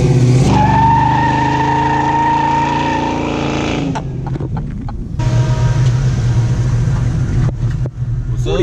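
A truck with a new LS engine on 22x11 wheels revs hard and accelerates with a loud, rising roar, briefly drops off, then surges again with a throaty drone.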